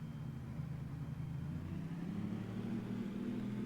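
A car engine in the GT2 racing video game holds a low, steady droning note, a fairly quiet and even hum with no sharp revs or gear changes.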